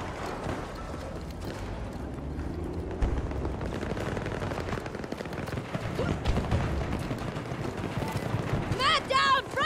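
Rapid bursts of gunfire in the video game Battlefield 2042 crackle through a dense, noisy battle mix, with repeated shots and a player talking over the action.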